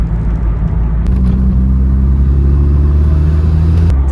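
A Ford Sierra Cosworth with a quiet exhaust drives along, its engine giving a steady, close, low rumble that holds evenly throughout without pause.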